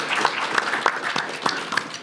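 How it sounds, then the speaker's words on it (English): Conference audience clapping for a moderator at a microcap investment showcase, a brief burst of scattered, close, sharp claps with no talking. "Let's give him a nice round of applause."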